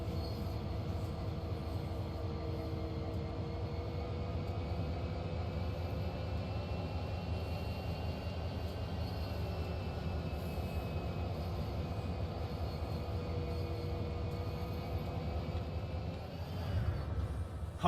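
Diesel locomotive in Train Sim World 2 climbing a steep hill, a continuous loud engine drone with steady tonal whine and rumble, unbroken for the whole stretch.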